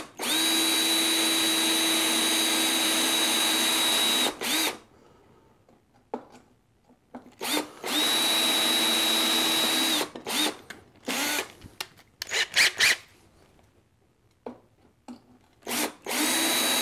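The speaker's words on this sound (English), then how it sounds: "we're gonna go back to our real skinny drill bit and go right down the center here" A skinny drill bit bores down the center of a toy vending machine lock, the drill whining loudly in long bursts separated by short pauses and a few brief stops and starts near the microphone.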